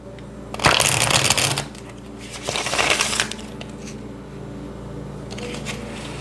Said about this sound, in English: let's shuffle these a couple times